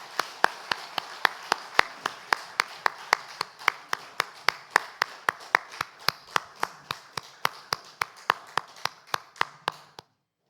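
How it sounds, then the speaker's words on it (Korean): A church congregation claps in praise during a Sunday worship service, a steady rhythmic beat of synchronized claps, about three per second, moderately close, ending abruptly into silence. "하나님께 영광의 박수 올려드립니다."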